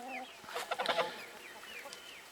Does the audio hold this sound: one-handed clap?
no